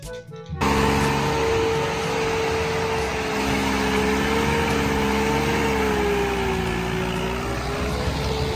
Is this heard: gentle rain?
no